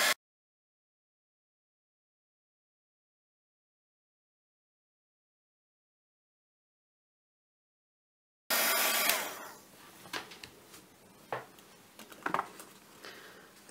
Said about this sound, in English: let's dry this off and see what it looks like.